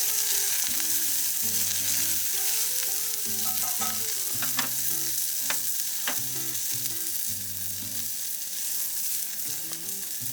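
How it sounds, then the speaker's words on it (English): Falafel korma curry being stirred in a camp oven, a close, steady frying sizzle with scraping stir strokes and occasional sharp utensil clicks against the pot throughout. "Give it a really good stir around."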